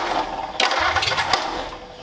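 A flathead engine with a carburetor starting up and running, a brief cranking burst that catches into an uneven, sputtering mid-pitched engine note close by.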